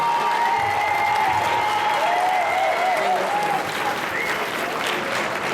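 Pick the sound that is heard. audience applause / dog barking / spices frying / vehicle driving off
audience applause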